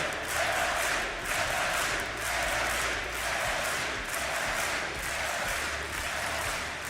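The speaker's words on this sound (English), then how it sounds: "And the crowd absolutely loves it." A large esports arena crowd at DreamHack Masters Malmö 2016 roars and cheers steadily, a dense wash of voices and applause that swells slightly and never lets up.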